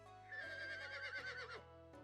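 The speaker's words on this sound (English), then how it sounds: "I was jolted back by the whinnying of a horse" A horse whinnies in the Birushana Senki video game, a clear, loud neigh with a wavering pitch lasting over a second, set against a steady low musical drone and followed by a short sound at the end.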